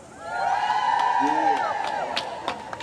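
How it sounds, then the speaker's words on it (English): A crowd of kindergarten teachers at a New Zealand teachers' joint strike rally cheers loudly, a swelling roar of overlapping whoops and shouts that holds for about two seconds and then fades. "can you give us a cheer if you're from kindergarten?"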